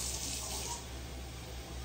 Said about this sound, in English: I'm gonna add a little bit of water into the can